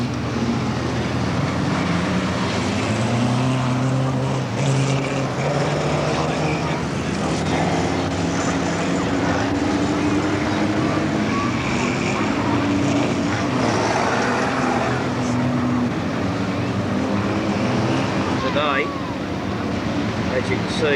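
Speedway saloon cars and bumper cars circling a dirt track in a grand parade at a state title meeting. Their engines drone on continuously at mid distance, with rising and falling passes and speech over the top.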